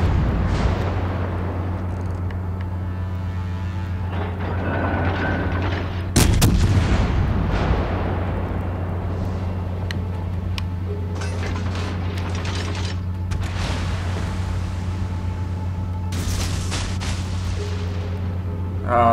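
Naval guns on World of Warships Legends warships fire warning shots as deep booming blasts over a steady low engine hum, with one sharp report standing out mid-clip and other distant thuds and mechanical clanks scattered throughout.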